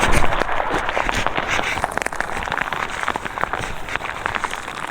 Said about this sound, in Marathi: खूप जोरात पाऊस आलेला आहे बघू शकता